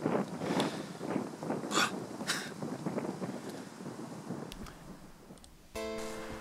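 Outdoors near a forest, wind buffets the microphone in irregular rumbling gusts and bursts for several seconds, loud and close, then drops away before a brief tonal sound.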